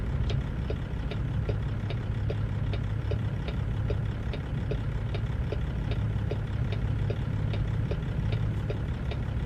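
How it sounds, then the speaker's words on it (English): Extended-frame, long and lowered Kenworth truck idling in American Truck Simulator, a steady low engine drone with a regular ticking pulse running evenly throughout. "And with some good engine sounds."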